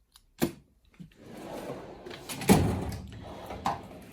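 A toolbox drawer slides open with a scraping rumble, preceded by a couple of light clicks and knocks, fairly close.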